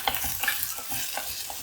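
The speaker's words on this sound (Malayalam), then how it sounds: "എല്ലാം കൂടിയിട്ട് നന്നായിട്ടൊന്ന് വഴറ്റിയെടുക്കാം." Chopped ginger and green chillies sautéed in a pan for a raw mango curry, giving a steady close sizzle with a few soft scraping stirs.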